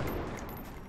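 Gunfire from XCOM: Enemy Within with the Long War mod, a single short, dense burst of shot noise filling the brief moment, fairly loud and close with no talk over it.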